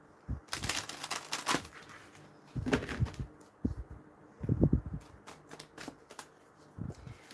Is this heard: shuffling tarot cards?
yes